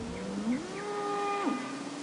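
A member of a wild cattle herd moos loudly and close by, a long tonal call that rises then falls and lasts about two seconds, with no other sounds.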